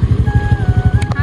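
Motorcycle engine chugging close by in a steady rapid low thump as the bike is brought to a stop, with a faint tone above it.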